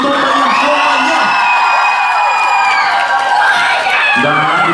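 A crowd of young fans at a K-pop dance cover show cheers, whoops and shouts loudly and continuously, with voices rising and swelling in excited waves throughout.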